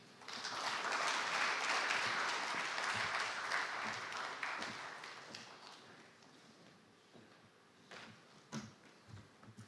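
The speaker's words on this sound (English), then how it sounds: "Can we have a round of applause again for the Honourable Minister?" Broad applause from a conference audience for a minister at an African agriculture dialogue, loud and sustained at first, then thinning into scattered claps and fading over the last seconds.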